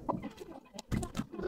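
Tiger chickens, about sixty to seventy kept in a small coop, give a few quiet, brief clucks and calls in a short burst, with no talking.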